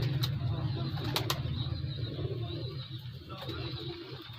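Pigeons of the Old Salaray Teddy breed coo softly in a loft, with a few brief wing-flap bursts, faint against steady background noise.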